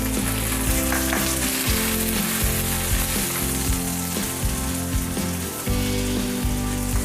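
Onion sizzles and fries steadily in hot oil with garlic already browned in the pan, a loud continuous crackle and hiss under low-pitched background music, with no talking.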